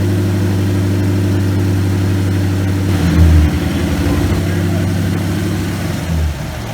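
A Ford Coyote V8 swapped into a 2005 Mustang idles steadily and smoothly with a low, even rumble throughout, close and fairly loud, with a slight revving swell near the middle.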